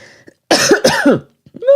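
A pair of sharp, loud coughs close to the listener, followed by a brief throaty sound after a short pause.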